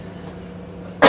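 A single short, sharp cough bursts out close and loud at the end, after a moment of quiet room hum.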